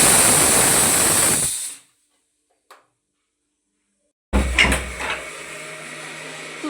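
A pressure cooker on the stove releases steam while cooking rice: a loud, sustained hissing blast that cuts off into silence, then a second burst of hiss and rattle returns, heard alone with no talking.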